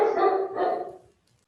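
One dog lets out two loud, close barks in quick succession, the second trailing off into quiet within about a second, with nothing else heard afterwards.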